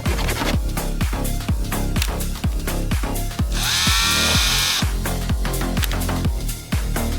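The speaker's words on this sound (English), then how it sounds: "those chainsaws send a message" A video game chainsaw: a loud, buzzing motorized saw revs in a steady rapid chugging rhythm, with a brief higher whine in the middle. No voices.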